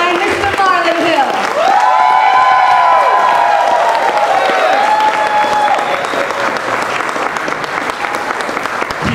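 Loud, sustained applause from a crowd welcoming a county commissioner candidate for District 9 in Miami-Dade at a campaign launch, with whoops and cheers mixed in and a voice carrying over the clapping.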